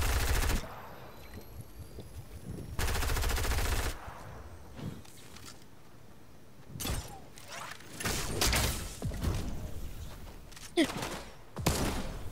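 Loud bursts of automatic gunfire in Fortnite, several volleys separated by quieter stretches, with a player talking between shots.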